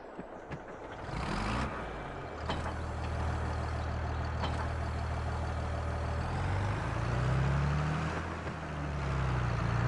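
A tractor engine in the video game Farming Simulator 22 rumbles with a low, steady drone, rising and shifting in pitch as it revs, after a brief clunk and hiss at the start, with no talking.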